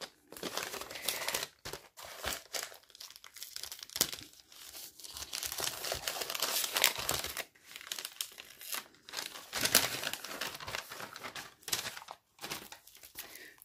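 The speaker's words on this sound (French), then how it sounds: "Je vais essayer de ne pas déglinguer le papier." Paper crinkles and tears in close, uneven bursts, rustling on and off with brief pauses, fairly quiet and with no one talking.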